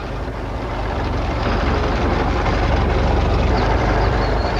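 A little cartoon car's engine strains and rumbles steadily, a dense, loud, continuous drone that holds without a break.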